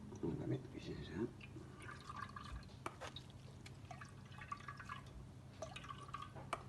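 Fresh ginger juice drips and trickles into a container as it is extracted, faint liquid patters and drops with a quiet voice talking over them.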